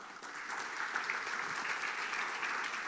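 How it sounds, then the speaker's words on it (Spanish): A church congregation claps steadily during a sermon, an even, moderately quiet sustained applause of many hands with no talk over it. "Denle un fuerte aplauso al Señor."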